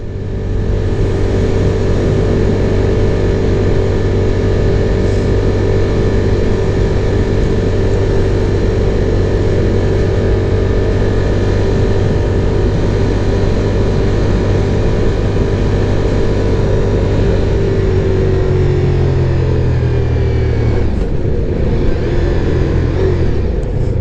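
A Ducati Diavel V4 motorcycle engine under throttle while riding, a loud steady drone with wind rush that holds for most of the stretch, then drops in pitch as the revs fall near the end.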